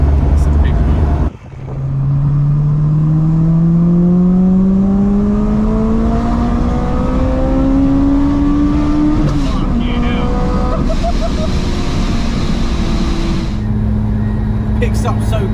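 A supercharged Honda S2000 with VTEC accelerates hard, its engine note climbing steadily through the revs in a long rising pull, then easing off and shifting, loud and close with the drone continuing throughout.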